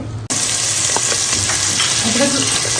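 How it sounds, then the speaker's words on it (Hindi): Chopped onion with ginger and garlic sautés in a pan for a chana dal and bitter gourd curry. The sizzle is loud and steady, with a few faint stirring scrapes, and starts right after a brief cut. "प्याज को हम थोड़ा सा सौते कर लेते हैं।"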